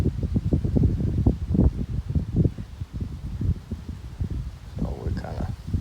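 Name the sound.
wind blowing on a windy day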